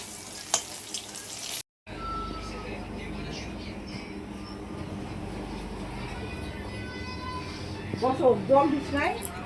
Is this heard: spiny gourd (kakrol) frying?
yes